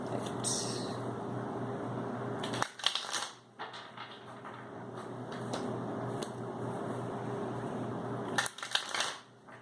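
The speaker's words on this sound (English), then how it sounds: "This shuffling like that is so loud on camera." Continuous papery rustling and riffling of tarot cards being shuffled close by, broken by a couple of short pauses and bursts.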